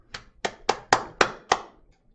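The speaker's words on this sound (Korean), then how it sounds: "힘찬 박수와 함께 시작하겠습니다" Six crisp hand claps ring out in a steady, evenly spaced rhythm, like a class clapping together in unison at the start of a lecture. Each clap is sharp and close, with brief silence after the last.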